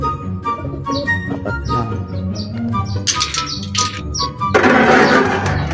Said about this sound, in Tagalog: Ayan sila. Mga kalapatids.